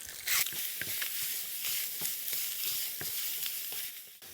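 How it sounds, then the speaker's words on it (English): Sausage meat with casings removed fries in a pan while being broken up, a continuous loud crackling sizzle with repeated scraping and tapping of a utensil. "you fry it off, and you break it up as you go."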